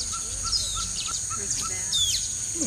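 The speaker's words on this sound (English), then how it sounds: "songbirds are mobbing the pygmy owl." Small songbirds, including a chestnut-sided warbler, mobbing a pygmy owl in the forest near Palenque, Mexico, give repeated sharp chips and high thin call notes over steady insect hum, fairly close and continuous.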